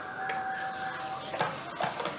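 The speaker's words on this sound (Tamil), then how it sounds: "இந்த மசாலா நமக்கு எண்ணெயில் கொஞ்சம் ஃப்ரை ஆகி ஒன்று சேர்ந்து கிடைக்கட்டும்" Masala spices frying in oil with cumin and asafoetida for sundal, a steady close sizzle with faint scraping stirs over it.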